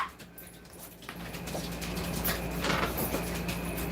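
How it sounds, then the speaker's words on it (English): A dog whimpers and gives faint, muffled barks somewhere indoors, quiet and a little distant, over a low background rumble. "He's barking."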